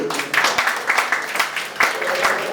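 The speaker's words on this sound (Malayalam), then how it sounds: "ജിഷ്ണുവും ടീമും അതിന്റെ ഒരു ഭാഗമാകാൻ ലേറ്റ് ആയിട്ടാണെങ്കിലും എനിക്കും സാധിച്ചതിൽ വലിയൊരു കൈയടി കൊടുത്തേ പറ്റൂ." An audience at a URF World Record award event applauds in a short, uneven burst of clapping that pulses in waves at moderate loudness.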